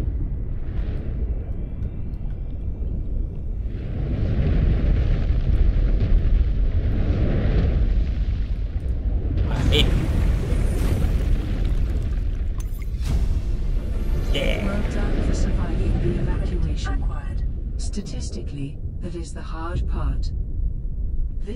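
Explosions roar through an underwater survival game, Subnautica Below Zero, as a long, loud, rumbling blast sequence with crackling bursts, and a voice speaks over the din.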